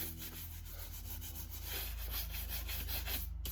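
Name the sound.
brush scrubbing dust off cowboy boots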